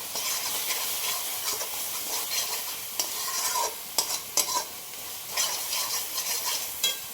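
Paneer masala, red chilli powder and turmeric being stirred in a sizzling pan for masala matar paneer, a steady frying hiss broken by scraping spoon strokes, close and fairly loud.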